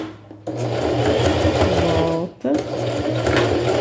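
A sewing machine backstitches in reverse with a fast, rattling whir. It stops briefly, then restarts, and someone talks over the stitching.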